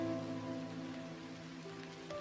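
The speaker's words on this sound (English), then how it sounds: "again, there's the falling rain." Steady falling rain pattering on a surface, a constant dense hiss with scattered droplet impacts, alone and fairly close throughout.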